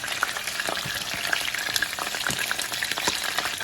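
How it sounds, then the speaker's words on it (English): Onions and peppers sautéing in a hot pan for Panamanian chicken tamales, a dense, continuous crackling sizzle with small pops and occasional stirring clicks, close up and steady throughout, no voices. "now we're going to just go ahead and saute our onions, peppers."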